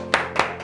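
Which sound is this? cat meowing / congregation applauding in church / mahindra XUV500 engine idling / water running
congregation applauding in church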